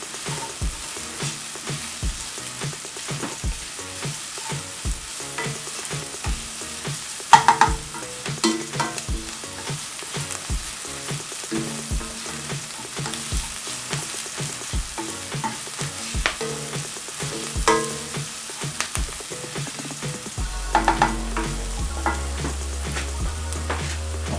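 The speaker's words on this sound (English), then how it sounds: "We're just going to saute this." Sautéing in a pan for Caribbean-style pepper shrimp, with a steady sizzle under a rapid run of spatula clicks and scrapes that continues for the whole stretch, loud and close.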